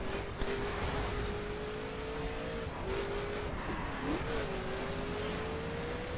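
A Mercedes 300 SLR Uhlenhaut in the racing game The Crew spins its wheels while accelerating, a steady, loud engine drone rising and dipping in pitch through gear changes, with no voices over it.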